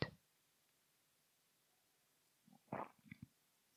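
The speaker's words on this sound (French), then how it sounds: "Écoute les gargouillis qui s'en vont là" Stomach gurgling: a quiet, nearly silent stretch broken by a short gurgle at the start and a cluster of soft, irregular rumbling bubbles near the end, close and faint.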